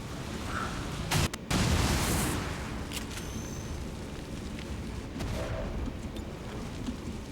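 Explosions in XCOM 2 go off as several loud booms, the biggest about a second in, followed by rumbling blasts later, with no talk.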